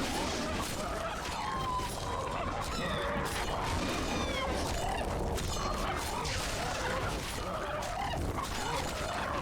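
Harpies screeching in The Witcher 2 in a quarry, shrill bird-like cries over a dense, continuous wash of combat noise and clatter, loud and without pause.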